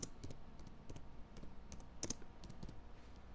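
Computer keyboard typing out a presentation title, a quiet, irregular run of light key clicks with short pauses and a small cluster of taps near the middle, close by and without speech.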